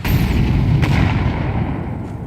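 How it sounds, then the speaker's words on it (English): Grenade blasts in Counter-Strike 2 during a playoff match, a loud continuous rumbling roar of explosions with a sharp crack partway through, no voices. "Nades into main."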